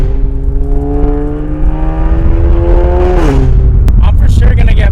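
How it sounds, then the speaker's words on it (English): Lexus IS fitted with PPE headers revs hard, its loud raspy exhaust note climbing steadily and then dropping near, with someone talking over the engine. "The car is way too loud, but it's not even a good loud. It sounds like ass."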